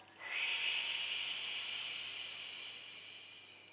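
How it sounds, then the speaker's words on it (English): A long, exaggerated breath out during a seated chair exercise, a steady airy hiss lasting over three seconds that slowly fades, close and alone. "And then breathe out."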